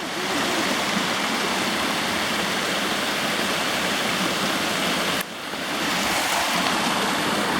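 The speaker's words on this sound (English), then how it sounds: "Look at a waterfall, Jared." A waterfall on a creek running through the small mountain town of Sierra City roars in a dense, constant wash of rushing water. The sound dips briefly near the end, then returns at full strength, and no voices are heard.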